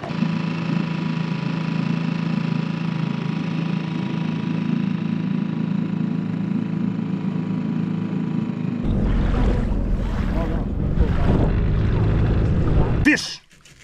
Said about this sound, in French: on a pris le moteur, on l'a mis sur le canot, puis là, on part explorer, puis pêcher